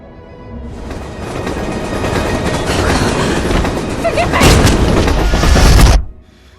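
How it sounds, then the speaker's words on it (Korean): A train rumbles past close by, its roar swelling to a loud clattering peak before cutting off abruptly. "기차를 탄 안나입니다"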